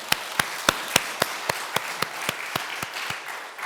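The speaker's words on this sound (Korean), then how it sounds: "우리 기악부를 위해서 박수 한번." In a church service, a congregation's applause for the instrumental ensemble comes as a string of sharp, evenly spaced claps, loud at first and gradually fading.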